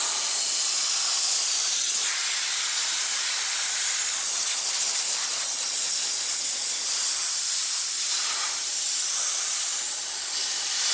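Ferrex iron remover hisses from a spray can onto the brake caliper of a BMW F10 M5, a loud, continuous, close-up spray lasting the whole stretch with slight swells in intensity and no talk.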